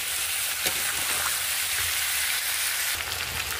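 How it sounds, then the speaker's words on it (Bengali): Diced potatoes with cumin fry in a hot pan, giving a steady dense sizzle with soft crackles throughout, close and fairly loud, no voices. "এবার আমি আলুটাকে ভালো করে একটু ভেজে নেব।"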